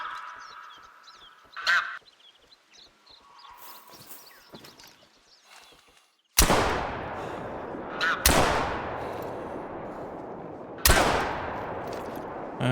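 Three loud, echoing rifle blasts ring out in a goose-hunting game, each decaying slowly, preceded by scattered goose honks and faint rustling in a quiet outdoor scene.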